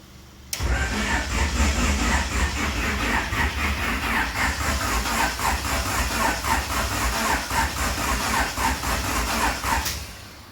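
A Honda Civic EG coupe dirt track car with a swapped F20B engine and no fuel cranks continuously for about ten seconds with a rhythmic chugging of the starter, never catching, then stops abruptly.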